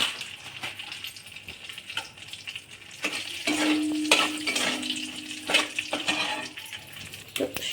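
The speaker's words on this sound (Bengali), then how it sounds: "আমি এবার একটু কালো জিরা দিয়ে দেবো, একটা তেজপাতা দিয়ে দিলাম" Nigella seeds and a bay leaf fry in hot oil for a Bengali hilsa fish and potato curry, giving a steady close sizzle with scraping stirs and utensil clinks that rise and fall.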